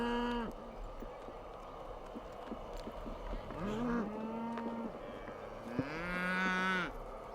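A freshly branded calf on a western cattle ranch moos as it is released, several loud drawn-out bellows and lows, near and clear, with no talking.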